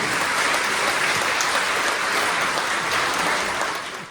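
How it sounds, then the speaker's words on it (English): Wedding guests at a reception in Chelsea, Michigan give the bride and groom a dense, steady round of applause, loud and close, which fades at the very end. "Ladies and gentlemen, another round of applause, please, for the bride and groom."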